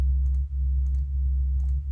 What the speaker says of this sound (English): you should be getting like a sub sound, like a sine wave.